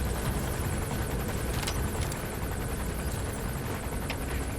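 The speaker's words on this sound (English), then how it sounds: "Helicopter's right on top of my head." A helicopter hovers directly overhead in Metal Gear Solid 5, a loud, steady rotor roar filling the whole span with no talk over it.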